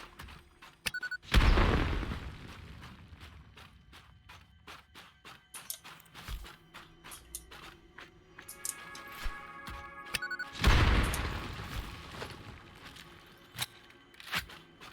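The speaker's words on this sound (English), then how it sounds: "First, though, explode this rock." Rock blasted apart with explosives in the factory-building game Satisfactory, two loud booming detonations several seconds apart, each a sharp burst trailing into rumble, surrounded by clattering footsteps and game effects, with no talk.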